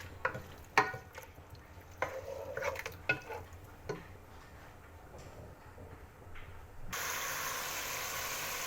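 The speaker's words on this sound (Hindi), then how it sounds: "और बीफ का कलर चेंज होने तक हम फ्राई करेंगे।" Boneless beef fries in a pan for haleem, with quiet sizzling, intermittent stirring scrapes and taps of a utensil, then a louder steady sizzle near the end, with no talking.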